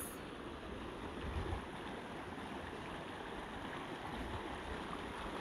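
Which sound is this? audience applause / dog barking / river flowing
river flowing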